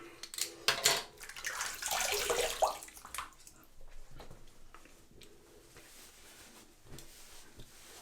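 Water runs from a tap while a face is rinsed after a wet shave, splashing and gurgling loudly for the first few seconds, then tapering into quieter intermittent drips and small splashes.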